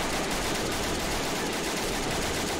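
M14 rifles fire in a toy-soldier war game, Army Men battle, as a dense, distant-sounding wash of continuous gunfire blending into steady battle noise.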